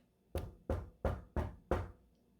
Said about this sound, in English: He was sitting inside his new house when there was a knock on the door